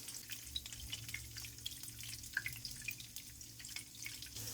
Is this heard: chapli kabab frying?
yes